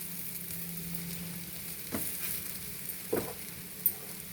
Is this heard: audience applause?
no